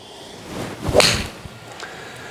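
A Titleist T350 iron swings through and strikes a golf ball, a single quick whoosh with a crisp impact near the middle, heard outdoors over faint background noise.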